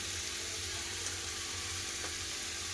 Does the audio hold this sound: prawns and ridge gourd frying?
yes